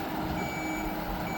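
An airport catering vehicle gives off a steady reversing beep, heard at a distance through a dense blanket of broadband engine and wind noise.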